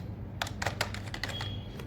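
A short burst of computer keyboard typing, a quick cluster of soft, close key clicks that then thins to a few scattered taps over a faint steady hum.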